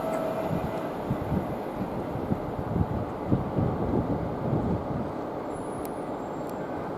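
A Pendolino express from Glasgow Central to London Euston passes through Nuneaton station on the West Coast Main Line, a continuous heavy rumble with rhythmic rolling texture and a faint high squeal near the end.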